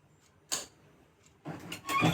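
ESP32-controlled IoT solenoid door lock switching, giving short mechanical clicks: one sharp click, a pause, then a busier burst of clacks near the end, close and fairly quiet.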